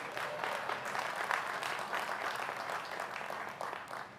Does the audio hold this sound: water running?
no